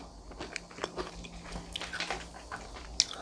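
Crispy fried chicken skin, BBQ style, crunched and chewed up close: a series of sharp, crackly bites with softer chewing between them and one loud crunch near the end, with no talking.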